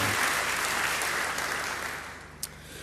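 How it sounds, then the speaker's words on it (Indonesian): A congregation claps together during an Indonesian church sermon, steady dense applause that fades gradually, with one sharp louder clap near the end. "Beri tepuk tangan yang baik buat dia."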